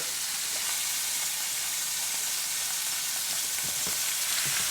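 A roast beef sears in a hot pan, a steady, hissing sizzle that holds at an even level throughout, with faint spits and crackles and no talking.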